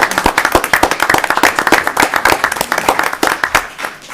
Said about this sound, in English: Now that we've applauded you